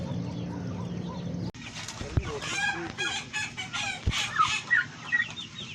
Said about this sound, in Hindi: जी व्यूअर्स आप देख सकते हैं ये ब्लैक चिकन है